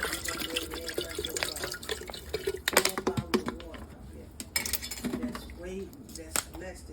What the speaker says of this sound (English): I'm just gonna start adding water.